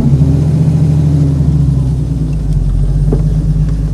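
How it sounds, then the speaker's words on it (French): A Jaguar XK 140 DHC engine rumbles loud and close, a deep steady drone as the car pulls away, with no voices. "Bon, on va la rouler cette auto."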